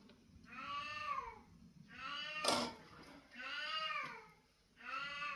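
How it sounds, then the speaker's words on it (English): A house cat wakes and meows repeatedly, four long wavering meows in steady succession, close and clear, with a brief noisy bump in between. "My cat decided to wake up."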